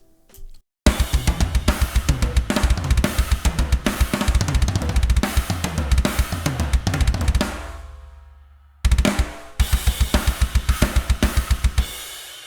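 A mixed drum kit from the Modern & Massive 2 library plays back loud and punchy, a dense steady groove of kicks, snares and cymbals that stops, rings out, then restarts for a final burst, with no talking.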